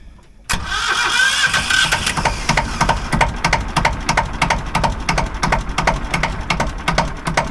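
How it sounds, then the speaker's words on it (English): An engine fires up abruptly after a brief quiet, then settles into a steady rhythmic chugging run with regular firing pulses, close and loud, on an engine just restored with a new fuel system and service. "then we'll fire the engine up and see how she sounds"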